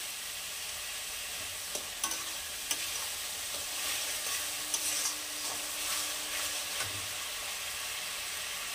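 Tomato paste sizzles and fries in a hot pan for chana masala, a steady bright hiss with occasional stirring scrapes and small pops, close and continuous.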